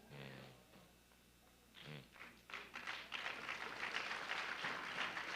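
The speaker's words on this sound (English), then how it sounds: "Oh, I finally get a clap." Audience applause at a trade and investment conference, starting faint after a brief voice and swelling into steady, moderately loud clapping from a crowd in a hall.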